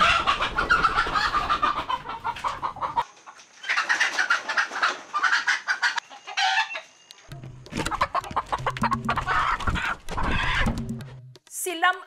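Hens cluck and squawk in bursts, close by, as they are being caught, with rustling and scuffling in between and a brief pause of near silence.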